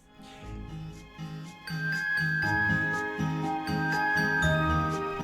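Chiptune-style adventure game soundtrack from Valkie 64 with bright tinkling melodic notes over a steady bass pattern, playing continuously at moderate volume with no voices.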